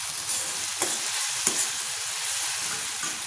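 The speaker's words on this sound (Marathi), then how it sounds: "टोमॅटो आपण व्यवस्थित त्याच्यामध्ये शिजवून घेणार आहोत" Tomatoes cooking in a pan for a spinach (palak) curry give a steady, soft sizzle with a couple of faint clicks, close by and with no talking.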